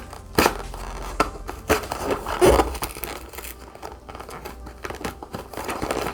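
Coffee sample box packaging is cut and torn open up close, with irregular bursts of crinkling, crunching and ripping paper or plastic amid handling noises, no talking.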